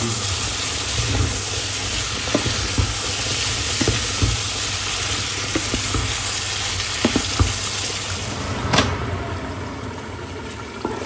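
Masala spices for a chicken curry sizzle and fry in a pan, with scraping stir strokes and occasional clinks of the spoon against the pan over a steady close-up crackle.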